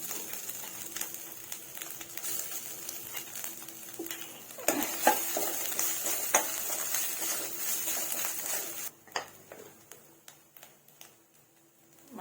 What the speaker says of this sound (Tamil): இப்ப வந்து தட்டி வச்சிருக்கிற தேங்காவையும் போட்டு வதக்கிடலாம்.